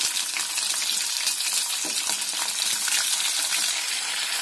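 Stuffed ridge gourd dropped into hot oil tempered with curry leaves and asafoetida, giving a dense, loud, continuous sizzle close by with faint scattered crackles.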